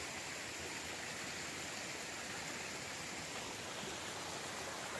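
A small waterfall stream flows steadily on a trail at dawn, giving a continuous, even broadband rush of water that stays fairly soft and constant throughout with no voices.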